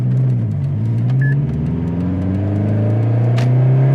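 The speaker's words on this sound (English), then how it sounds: "Let's go do some downtown driving." A Subaru STI drives through downtown streets, its engine a steady, loud low rumble with gentle swells of revving. The close-up drone carries on for the whole stretch, and no one speaks.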